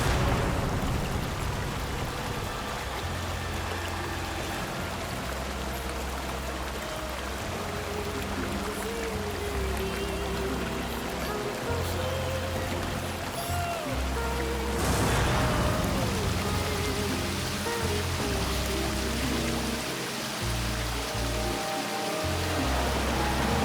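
Waterfall near Jumma Patti: a steady, dense rush of flowing water, loud and unbroken throughout, with low rumbling swells underneath and no voices.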